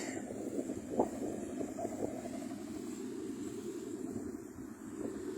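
Wind blows across rice fields at harvest time in Buriram, Thailand, a steady, close rushing rumble with gusty microphone buffeting and no voices.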